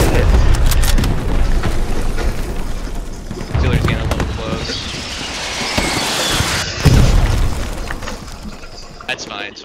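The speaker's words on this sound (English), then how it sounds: "he's chucking grenades at me" Grenade explosions in the World War II shooter Hell Let Loose, several heavy booms landing at intervals amid scattered gunfire and battle rumble, with players talking over the action.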